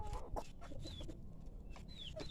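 A hen with chicks clucks softly and intermittently nearby, with faint chirps from the chicks and light background rustling.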